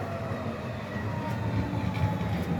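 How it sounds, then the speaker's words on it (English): An older Bombardier C4000 class tram on the Wimbledon line rolls in toward a stop in southeast London. It makes a loud, continuous rumble of wheels and motor with faint rail clicks. "We've got a tram coming in from Wimbledon. It's one of the older Bombardier trams."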